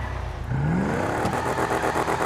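A rat truck's engine in GTA 5 revs up, its pitch climbing steadily, then holds at a high, rattling drone.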